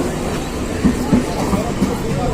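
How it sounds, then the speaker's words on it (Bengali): A train pulls into a station during a Kali Puja fair in Konnagar, its steady low rumble filling the scene with a few soft knocks and crowd murmur in the background. "তারপর ট্রেন চলে আসলো"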